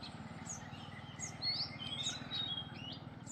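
Baya weaver birds chirp and tweet around their hanging nests in a riverside tree, several sharp high calls repeating over a steady low rumble of background noise, no voices present.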